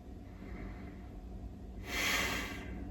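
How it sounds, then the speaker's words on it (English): A single slow nasal breath, a soft airy inhale or exhale through the nose, swells up briefly near the end over a faint, steady background hum. "Has us doing slow nasal breathing."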